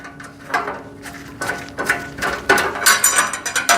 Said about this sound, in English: So that screw goes in here, and it has a little rivet point that you can tighten that up into.